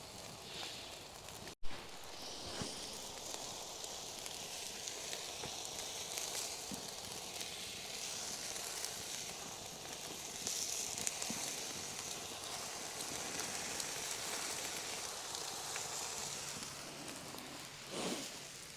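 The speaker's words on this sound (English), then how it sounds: "Oh, steaming the buns." Buns steam and sizzle on a cast iron griddle over a campfire, a steady soft hiss with light crackles lasting throughout, punctuated by one sharp knock early on.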